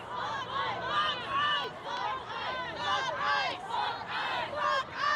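Dense crowd of protesters at a No Kings protest, a continuous wash of many raised voices shouting and chanting in overlapping bursts, loud and close, with no single speaker standing out.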